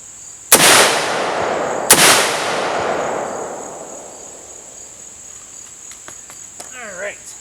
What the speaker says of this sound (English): So I'm going to get some new rounds for the 223 and go ahead and shoot that one more time.